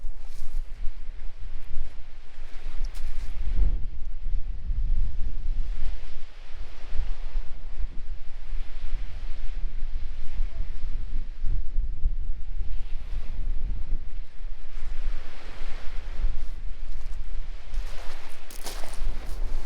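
Strong, gusty wind on the Holderness coast at Kilnsea roars steadily and buffets the microphone, with a deep low rumble and the hiss of surf beneath it. No one speaks.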